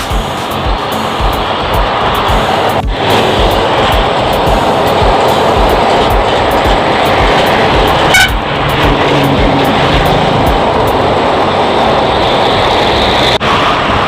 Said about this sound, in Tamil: கன்வேயர் பெல்ட் மூலயமா வந்து அந்த நிலக்கரி உள்ளார போயிட்டு இருக்கு அப்படியே நேராக பிளான்ட்டுக்கு போயிட்டு இருக்கு